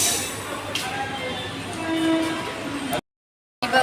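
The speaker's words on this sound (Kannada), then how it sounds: "ಇವಾಗ ತಾನೇ ರೈಲ್ವೆ ಸ್ಟೇಷನ್ ಬಂದ್ವಿ." A train at a railway station produces a broad rumble with faint horn-like tones, under a murmur of distant voices, before a brief silent gap near the end.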